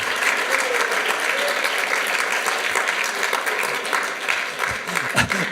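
An audience at a French-language talk on homeopathic remedies Phosphorus and Arsenicum Album bursts into steady, dense applause that holds at an even level throughout before thinning slightly near the end.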